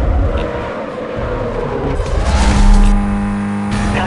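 A car engine revving hard in the Need For Speed Most Wanted racing game, loud and close, with the pitch climbing and shifting through gear changes and a faint tire squeal mixed in.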